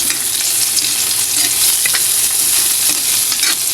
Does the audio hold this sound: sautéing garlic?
yes